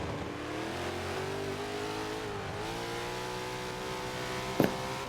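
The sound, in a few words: race car engine revving and upshifting, from a racing video game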